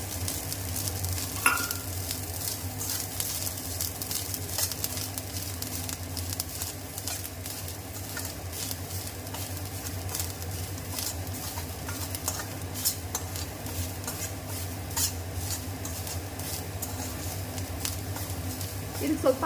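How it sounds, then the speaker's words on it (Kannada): Grated coconut fries in a pan for chicken sukka, with a low constant sizzle and frequent scraping, tapping stirs of a metal spoon throughout. "ಒಂದು ಪಾತ್ರೆಗೆ ಈಗ ತೆಂಗಿನಕಾಯಿ ಹಾಕಿ ಫ್ರೈ ಮಾಡಬೇಕು."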